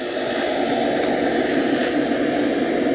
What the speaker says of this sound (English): And the compressor came on.